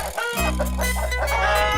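Hens give close, loud clucking calls in a short, busy burst with overlapping, throaty notes, and no one speaks.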